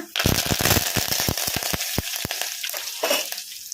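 Dry red chillies and curry leaves hit hot tempering oil with browned garlic for Andhra-style mango dal, bursting into a loud rapid crackle of pops that settles into a steadier close sizzle.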